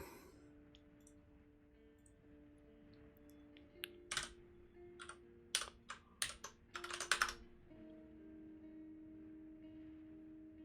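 Typing on a computer keyboard while writing OCaml code, in a quiet room: faint hum at first, then a burst of sharp, close key clicks in uneven clusters before it quiets again.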